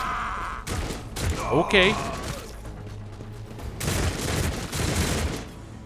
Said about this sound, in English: Well, that's a lot of bullets.